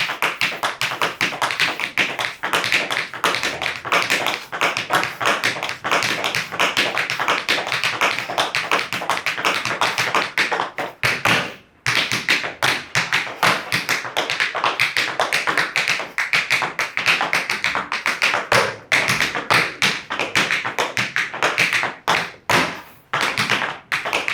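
Rapid, continuous tap shoe strikes roll in dense, drum-like bursts on a hard floor, loud and close, with only brief pauses.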